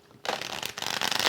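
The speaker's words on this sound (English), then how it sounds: "I shuffled your cards really well" Tarot cards being shuffled by hand, a dense papery riffle that starts abruptly after a brief quiet moment and continues steadily, growing slightly louder toward the end.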